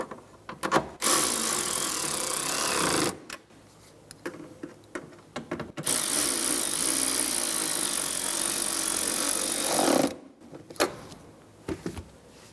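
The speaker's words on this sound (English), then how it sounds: "Snug them down using an 8mm socket." A ratchet socket wrench with an 8mm socket snugs down rear bumper cover fasteners on a 2007-2012 Nissan Altima, giving two long stretches of rapid, close ratcheting clicks broken by brief pauses and a few isolated knocks.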